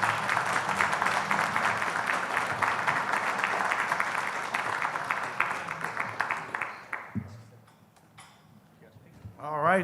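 Audience applause for the panelists at the close of a panel on tax increment financing in Oregon, a dense steady burst that fades after about seven seconds into quieter room noise and a voice.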